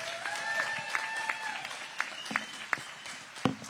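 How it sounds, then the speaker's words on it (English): Scattered, thin applause from a crowd at a SuperMotocross pre-race press conference in Charlotte, NC, with a few sharp claps standing out, mixed with faint voices and a lingering tone. "Let's have a round of applause for Team USA."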